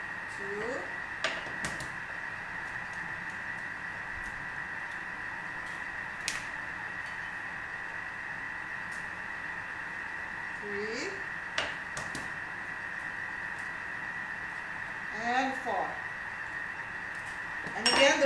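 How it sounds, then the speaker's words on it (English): Eggs cracked one by one into a bowl, a few sharp taps and clinks against glassware spaced out over a steady background hum, with brief quiet voice sounds between. "the reason why I'm breaking them into an individual bowl one by one"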